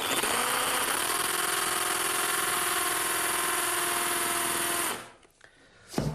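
A power drill runs in one continuous steady whine for about five seconds while boring a hole for a location stud in a Georgian dining room fitting, then stops abruptly, followed by faint handling noise.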